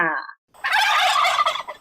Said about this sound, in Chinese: 这阿嬷饲的火鸡啦。